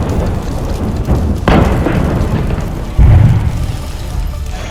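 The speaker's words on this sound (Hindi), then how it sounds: "कुछ मिनटों में करीब 10 धमाके हुए और इन धमाकों से पूरा इलाका दहल उठा।" Chemical factory blasts come as heavy, muffled booms over a constant roar of noise, with two sharper thumps standing out in quick succession, loud and distorted.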